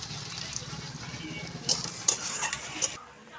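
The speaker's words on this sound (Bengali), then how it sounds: "দেখো কত তেল দিচ্ছে আজকে চচ্চড়ির জন্যে" Onions and mixed vegetables frying in a generous amount of oil in a pan for Bengali chorchori, a steady close sizzle with a few sharp stirring clinks and scrapes of a utensil near the end.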